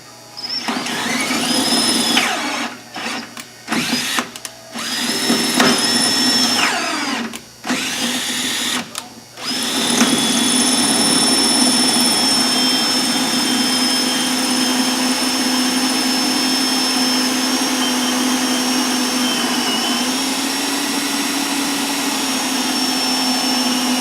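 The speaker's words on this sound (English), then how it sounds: "So with a 7/32 drill bit, pick a hole that's relatively close to center and drill through." A power drill with a 7/32 drill bit runs in short bursts, then bores steadily through an AquaCiser window panel with a loud continuous whine.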